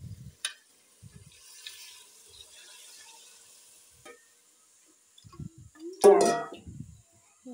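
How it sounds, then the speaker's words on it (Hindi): Water splashes into a pot in one short burst near the end, after quiet scattered clinks and light kitchen noise. "तो मैं इसमें डालूँगी पानी"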